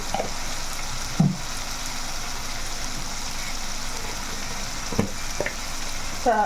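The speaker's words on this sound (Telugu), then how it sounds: "వేగుతుంది కదా ఇప్పుడు కొంచెం పప్పు పప్పు" Lentils fry in a pan with a continuous close sizzle, broken by a few sharp clinks and scrapes from stirring; no talking.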